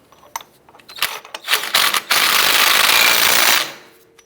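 An impact wrench snugs down the front axle nut on a 2002-2007 Jeep Liberty during a CV axle replacement: a few short close rattling bursts, then one loud sustained buzzing run lasting about two seconds.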